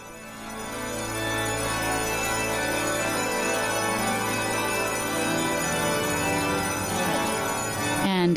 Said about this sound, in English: And the bells ring out in exultation.